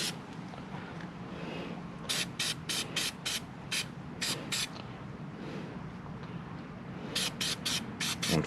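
An aerosol can sprays filter oil coating onto a Screaming Eagle motorcycle intake filter in short, sharp hissing bursts, first a run of quick rhythmic sprays, then a pause, then another cluster, close and clear over a low background rumble.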